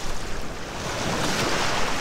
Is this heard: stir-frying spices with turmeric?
no